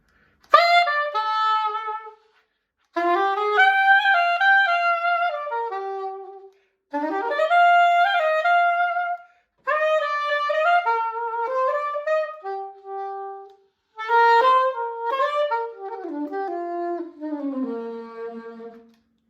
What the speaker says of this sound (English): That is the soprano saxophone, higher pitched.